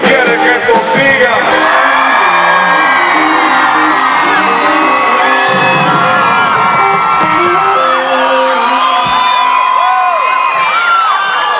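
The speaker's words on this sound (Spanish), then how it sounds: "Un grito de júbilo si quiere que esto siga." A large worship-concert crowd in Coacalco, Mexico, shouts, whoops and cheers with joy in a loud, continuous roar that holds steady throughout, with scattered high yells rising above the mass of voices.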